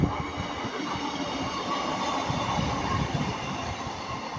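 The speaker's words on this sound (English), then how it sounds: "We're going Northern Class 150 anyways, going to Manchester Piccadilly." A Northern Class 150 diesel unit bound for Manchester Piccadilly passes at Ardwick, a steady moderately loud rumble of wheels and engine with faint rail clatter, no talking.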